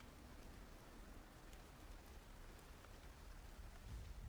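Steady rain used as a background effect during a tabletop role-playing session, a soft, even patter with faint low rumble, continuous and quiet with no talk over it.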